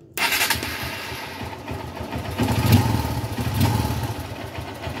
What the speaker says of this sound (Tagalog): Ito nga pala yung tunog ng motor natin na mayroong bagong air filter.